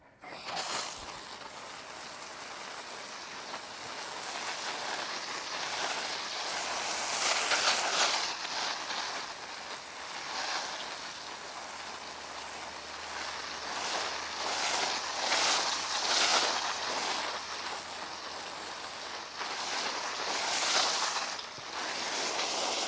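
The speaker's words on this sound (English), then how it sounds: "I'm going to take my hose and dampen this top batch" A garden hose sprays water onto a pile of shredded leaves outdoors, making a long, rushing hiss that swells and fades as the stream moves, with no speech.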